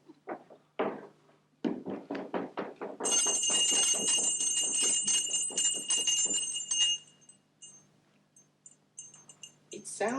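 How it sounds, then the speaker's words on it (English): A bell rung repeatedly at a door during a Wind in the Willows reading, struck in a rapid string of clangs with hammering knocks before and after, one long ringing stretch standing alone and loud. "ring the bell while I hammer again"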